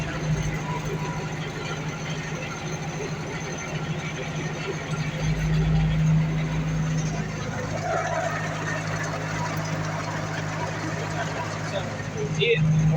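Tractor engine with a rotary tiller, running at a steady low idle-like drone while the machine is levelled, a constant near rumble with a brief heavier surge midway.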